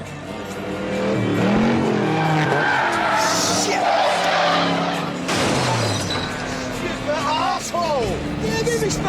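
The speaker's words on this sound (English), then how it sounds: "And you have a car that cuts them off." Tires skid and squeal loudly as a car cuts off a Suburban SUV in a Sons of Anarchy TV scene, with engine roar, a sharp crash-like burst and voices clamoring throughout.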